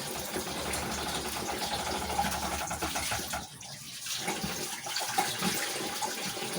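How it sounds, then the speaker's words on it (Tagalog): Heated drinking water is poured into a container, giving a steady, fairly loud splashing rush that runs continuously for several seconds and dips briefly midway before resuming. "mag-iinit na lang ng tubig. Tapos isasalin."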